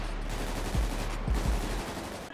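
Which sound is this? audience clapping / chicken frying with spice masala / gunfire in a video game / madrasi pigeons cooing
gunfire in a video game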